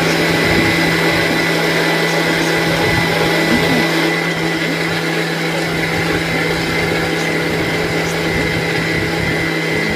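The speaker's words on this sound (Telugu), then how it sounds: "మిక్సీ జార్లో వేసి తిప్పేవాళ్ళండి" A mixer grinder runs loudly and continuously, churning cream with milk for ghee, its motor whirring at a steady high pitch for the whole stretch with no pauses.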